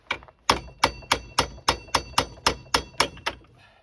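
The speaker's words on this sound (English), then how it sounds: "Might need a bigger hammer." A hammer strikes metal about a dozen times in a steady, even rhythm, each blow a sharp ringing clank close by, while working on stuck Chevy Impala rear suspension parts.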